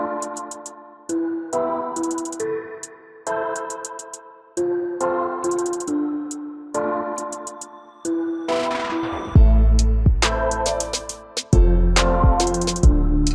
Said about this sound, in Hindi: तो आप यहाँ पे सुन सकते हैं यहाँ पे ये म्यूजिक चल रही है